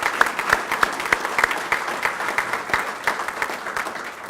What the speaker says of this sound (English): a round of applause for the national anthem